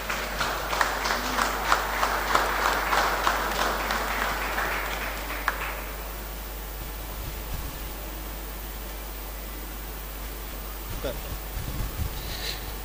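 An audience claps at an award ceremony honouring a writer. The applause is steady and moderately loud for about six seconds, then fades into quiet room tone with faint voices.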